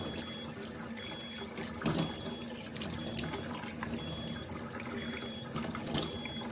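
Water runs steadily from a beauty water machine into a sink, a continuous close hiss and splash with a couple of louder bursts, no talking over it.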